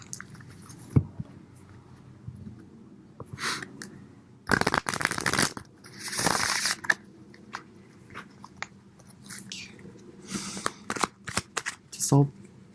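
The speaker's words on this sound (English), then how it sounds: "So I'm going to shuffle one more time." Tarot cards shuffled during a pick-a-card reading: soft repeated riffles and flicks of the deck over a low room background, with several sharper shuffling bursts in the middle, and a voice talking quietly throughout.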